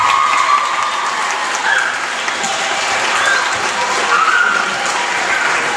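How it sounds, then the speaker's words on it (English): A school audience at a transition year awards night applauds staff for their work, dense, steady clapping that fills the room, loud and continuous throughout. "We have a round of applause for them."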